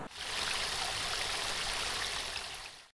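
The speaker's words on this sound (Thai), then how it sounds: "น้ำตก" Rushing water pours steadily and continuously, a dense bright hiss of falling water with no breaks or voices.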